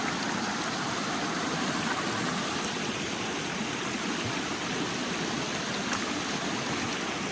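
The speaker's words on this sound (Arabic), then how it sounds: "اكبر نهر هذا في البرازيل" Large river in the Amazon, Brazil, rushing steadily with a dense, continuous wash of flowing water, loud and even throughout with no voices.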